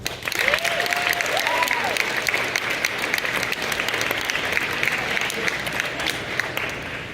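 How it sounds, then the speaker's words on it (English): Audience applause during a JROTC speech event, sustained crowd clapping that fills the whole stretch at an even level, with a couple of brief whistles near the start. "So I would like to please give them a round of applause."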